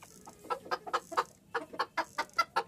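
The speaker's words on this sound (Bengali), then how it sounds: "একটা মোরগ, দুইটা মুরগি।" A set of Golden Sebright bantams, one rooster and two hens, cluck close by in quick rhythmic bursts, about a dozen short calls in two runs.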